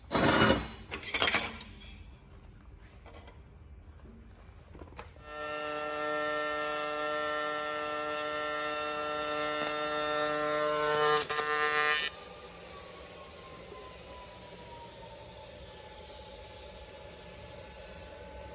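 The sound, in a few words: welding a pass with Miller Multimatic 220 welder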